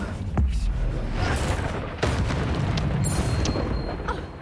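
A fire spell being cast in the video game Hogwarts Legacy, a loud booming burst of flame over continuous rumbling combat noise, with a second surge partway through and talk nearby.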